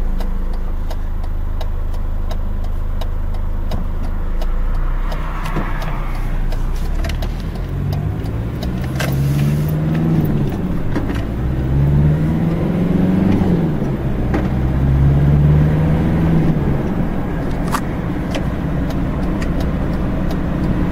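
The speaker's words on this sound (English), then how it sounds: "this engine's got quite a lot of power." A Ford 4x4 engine runs loudly and up close while driving. The steady low drone rises and falls in pitch through several accelerations and gear changes over about twenty seconds, with no talking.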